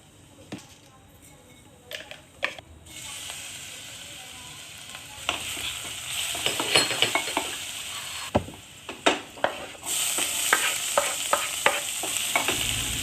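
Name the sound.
tempering of asafoetida, cumin, garlic, onion frying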